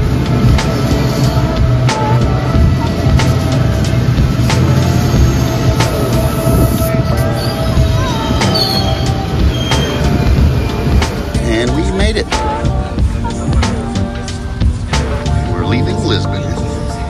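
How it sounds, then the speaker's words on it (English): A passenger train in Portugal gives a loud, constant rumble and clatter from on board, with people talking over it throughout. "That was a quick train ride"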